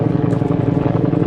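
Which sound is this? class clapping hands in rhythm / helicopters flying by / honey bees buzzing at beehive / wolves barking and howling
helicopters flying by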